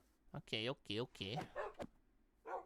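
A direwolf pup from the Minecraft That Time I Got Reincarnated As A Slime mod lets out a quick series of five or six high, yappy barks at close range. A brief spoken word is mixed in.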